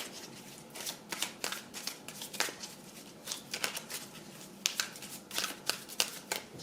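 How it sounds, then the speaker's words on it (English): Tarot cards being shuffled by hand, close and fairly quiet, a string of short crisp riffling bursts and slaps in an irregular rhythm with brief pauses between them. "Let me shuffle it again."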